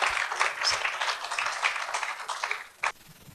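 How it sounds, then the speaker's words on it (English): Applause from a legal-conference audience fills the room, steady overlapping claps for about three seconds, then breaks off abruptly with one final burst. "A big round of applause."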